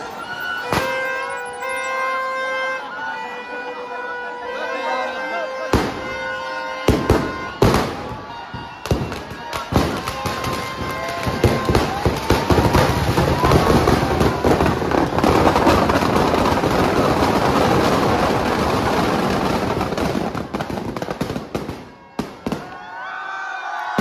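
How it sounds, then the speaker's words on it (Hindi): Strings of firecrackers crackle in a long, dense, loud burst during a Dussehra Ravan effigy burning, rapid pops merging into a continuous roar, with some tonal ringing early and scattered louder bangs at the end. "पांच चार बम की लड़ी लगा रहे हैं गाइस, देख लो ये भी रावण जलने वाला है"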